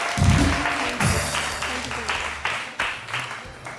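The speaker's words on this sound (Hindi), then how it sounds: "बहुत सारी तालियां।" A studio audience on a television morning show breaks into applause, with bursts of clapping that rise and fall in several waves, fairly close and loud, while the sound of the room hums underneath.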